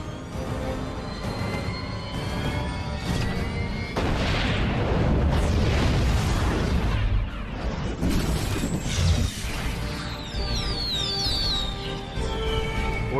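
A missile test with a heavy, sustained rumbling roar and booming explosions, loud throughout, with rising whistling streaks near the end and no talk.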